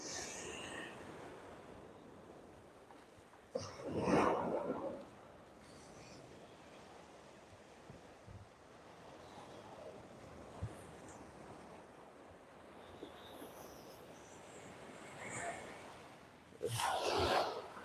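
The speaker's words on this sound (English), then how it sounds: "You see where those waves are breaking there." Faint ocean surf washing in at Sanibel Island, where waves break over a small sandbar off the beach; a low continuous wash with two louder surges of breaking water and some wind noise, heard from a distance.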